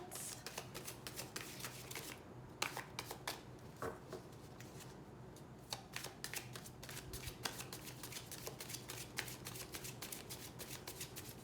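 Tarot cards being shuffled up close in a steady run of quick, papery riffles and flicks, continuing for several seconds with only brief lulls.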